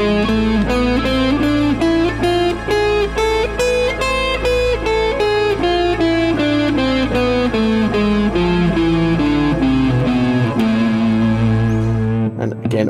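Electric guitar running a harmonic minor scale, a rapid stream of evenly picked single notes stepping up and back down over a sustained low drone, loud and close with a slight edge of distortion, then stopping abruptly.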